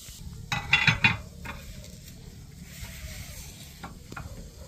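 Onion frying in a pan with pork ribs for a red-sauce dish, giving a steady low sizzle under brief louder stirring and clatter of a utensil against the pan near the start.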